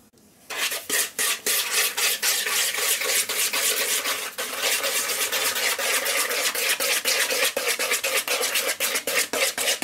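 Pie filling is whisked with caster sugar in a bowl for a gluten-free apple pie, a fast, rhythmic scraping and rasping that runs on close and loud, with a brief pause midway.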